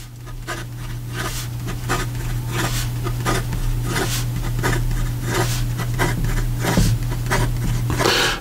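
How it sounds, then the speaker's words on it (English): A Benu Chameleon fountain pen with a stainless steel nib moves fast across paper, making quick, rhythmic scratching strokes close up over a steady low background hum. "And in regard to some fast writing"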